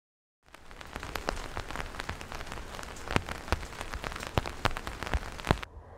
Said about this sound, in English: Frogs come out of their shelters when it rains.